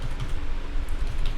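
Computer keyboard typing, a dense run of quick, close key clicks filling the whole moment at steady loudness with no talking.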